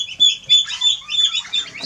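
Newly hatched baby chicks cheep in quick, high, piping bursts, several overlapping calls close by in rapid succession.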